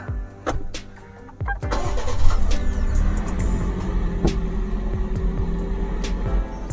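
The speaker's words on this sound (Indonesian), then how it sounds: "Di bawahnya di sini adalah tombol untuk menyalakan mesinnya. Kita nyalakan saja." A Toyota New Rush GR Sport started by push button, with a brief cranking whir that catches into a steady idle rumble, close up and without voices.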